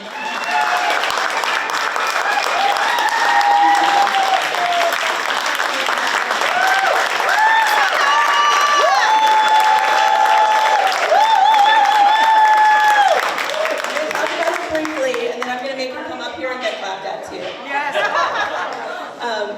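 Audience at a community chili contest gives a long, loud round of applause and cheers, mixed with chatter, laughter and a few whoops, then tapers off toward the end.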